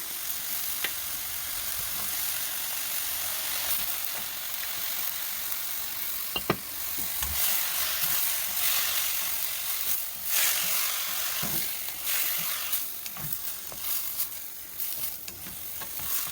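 Soy sauce hits a hot pan of celtuce (stem lettuce) being stir-fried, giving a steady close-up sizzle with a few sharp crackles and utensil clicks scattered through, with no one speaking.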